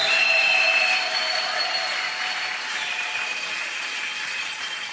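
A church congregation applauding together, a steady wash of clapping that holds for several seconds and eases slightly toward the end, with no voices standing out.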